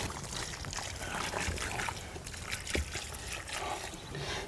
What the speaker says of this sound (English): Then after that, you do a bit of watering